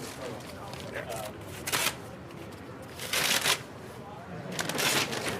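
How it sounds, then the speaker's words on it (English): Brown wrapping paper is torn and pulled off a framed painting in bursts of crisp rustling and ripping, with a few louder tears amid steady crinkling. "It's a painting that Peter's now pulling all the brown wrapping paper off"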